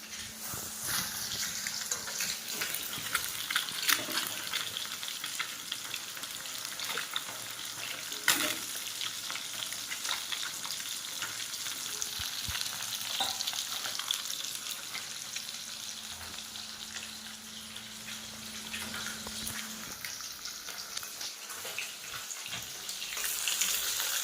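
Fish frying in a pan makes a steady, fairly soft sizzle and crackle that lasts throughout, with a few clatters of a spatula or pan.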